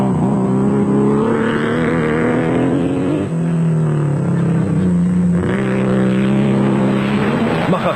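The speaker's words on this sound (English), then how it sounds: "but the engine wasn't sounding too healthy" A Nissan off-road race truck at the 2003 Toyota 1000 Desert Race runs rough, its loud engine droning with an uneven, wavering pitch that drops twice before climbing again.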